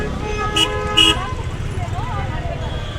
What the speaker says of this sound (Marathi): बघा फुल ट्रॅफिक आहे